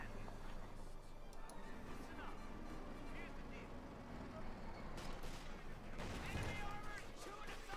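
Gunfire and machine gun bursts from Company of Heroes 2 battle, with Panzer Grenadiers and a .50 caliber in action, crackling dense and continuous beneath steady commentary talk.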